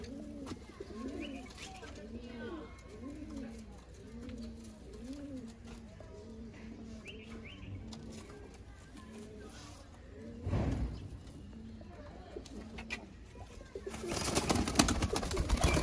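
Sialkoti pigeons coo in a steady rolling series from a nearby rooftop flock, repeated throaty calls through most of the stretch before a rustling burst of wing flaps and movement near the end.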